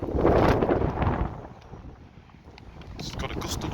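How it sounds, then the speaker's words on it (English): A gust of wind buffets the microphone outdoors, loud rushing at first, easing off, then picking up again near the end. "it's got a gust of wind there"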